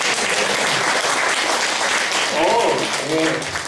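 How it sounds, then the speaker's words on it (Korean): A church congregation claps during a Sunday service, a steady wash of applause lasting a few seconds with a voice faintly audible near the end. "박수 한번 주세요"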